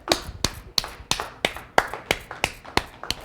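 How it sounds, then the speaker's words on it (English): A few people in a studio clap together in a slow, even rhythm, about ten sharp, close claps spaced roughly a third of a second apart, with no talking. "I think everybody in the studio clapping on that one"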